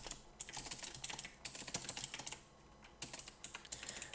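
Quick, continuous typing on a computer keyboard, close and clear, with short pauses between bursts of keystrokes and no speech.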